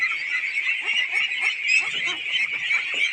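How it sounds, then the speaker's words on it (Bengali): About 1500 duck chicks, roughly four weeks old, crowd a duck farm, their loud, continuous chorus of overlapping honking calls filling the space close by. "এখানে 1500 হাঁসের বাচ্চা রয়েছে"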